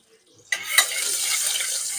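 A sudden loud sizzle bursts out as red chillies, garlic, asafoetida, cumin and turmeric hit a ladle of hot oil in a pan, settling into a steady close frying hiss.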